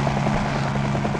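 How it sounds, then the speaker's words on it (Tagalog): A helicopter departing in a drama sound effect, heard as a steady, fairly loud engine drone with a fast rhythmic rotor thump throughout, with no voices. "Naghali ng helikopter."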